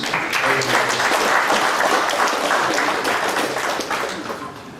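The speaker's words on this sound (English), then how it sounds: "A round of applause." Applause from the audience at a professional study-circle meeting for accountants honours the speaker, a full, sustained burst of many people clapping at close range throughout.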